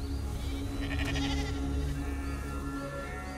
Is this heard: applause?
no